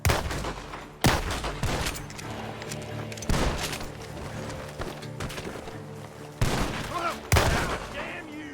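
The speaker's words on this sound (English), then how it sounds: "The gunshots are coming from that barn!" Gunfire in the Western video game Red Dead Redemption 2, several loud sharp bursts spaced a few seconds apart over a busy game soundscape with music and hoofbeats.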